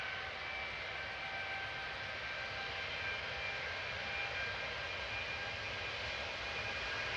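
A Gulf Air airliner leaving Manchester Airport for Bahrain gives off a steady, fairly distant jet engine drone with a thin high whine layered over it, holding even throughout with no speech.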